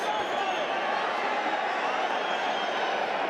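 Dense, steady roar of a large boxing arena crowd in Glendale doing the wave during a fight, a continuous wash of cheering voices at constant loudness throughout, with no single voice standing out.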